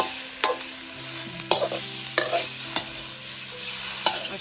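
Pork belly being stir-fried until its fat renders, with regular scraping spatula strokes roughly every half second to second over steady sizzling fat, close and moderately loud, with no speech.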